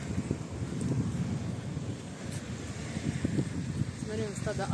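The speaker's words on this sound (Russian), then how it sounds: "Жалко, что ветер." Gusty wind buffets the microphone in a constant low rumble, with faint outdoor noise and a few brief chirps near the end.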